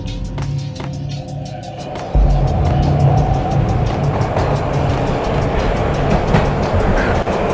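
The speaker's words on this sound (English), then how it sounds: "This was my second train ride of the night." A train ride in the video game Max Payne: steady loud rumbling rail noise with rhythmic clicking, stepping up in intensity partway through and continuing unbroken.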